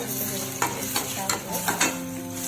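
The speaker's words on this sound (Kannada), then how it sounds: "ಶುಂಠಿ ಬೆಳ್ಳುಳ್ಳಿ ಪೇಸ್ಟ್ ಸ್ಮೆಲ್ ಹೋಗ್ಬೇಕು ಅಲ್ಲಿ ತನಕ ಹುರ್ಕೊಳ್ಳಿ" Ginger garlic paste frying in hot oil for egg masala, a steady sizzle with a spoon scraping and stirring the pan in quick repeated strokes, close and clear with no talking.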